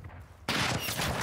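Gunfire erupts suddenly in Call of Duty Modern Warfare 2, a loud, dense burst of shots that continues steadily after a quieter lead-in.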